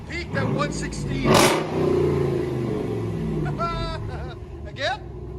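One sharp rev from a 2016 Ram 2500 HD 6.4-liter HEMI V8 with a Vibrant resonator rises over a steady low idle, followed by talking and laughter close by.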